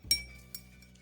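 A spoon clinks against a glass while yeast is stirred with sugar, two light chimes a half second apart, faint and close, with no voices.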